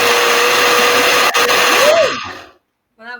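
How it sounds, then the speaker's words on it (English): A brand new blender whirs loudly and steadily at close range as it purées basil in white wine vinegar. The motor's pitch dips and rises near the end, then winds down to silence before a brief voice. "This is my brand new fancy blender."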